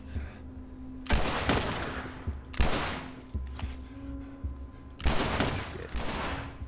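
Video game gunfire from The Last of Us rings out in loud, booming bursts with echoing tails, several heavy shots spaced a second or two apart over a low background hum.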